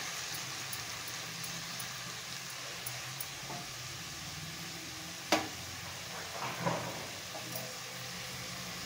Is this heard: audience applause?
no